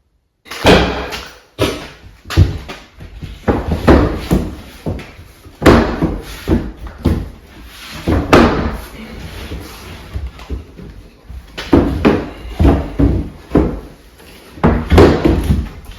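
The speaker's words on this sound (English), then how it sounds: "I just gotta see if this door will fit." A door is shoved and knocked into its frame during a home remodel: a series of loud, irregular thumps, bangs and scrapes close by, with short pauses between the efforts.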